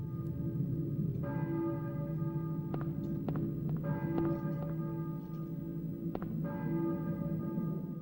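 A church bell in the fog-bound Silent Hill video game tolls repeatedly over a low droning ambience, each ringing strike sounding clear and sustained, spaced a second or two apart.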